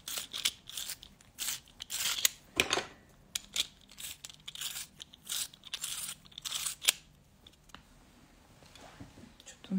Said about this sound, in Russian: Сейчас я подточу карандаш.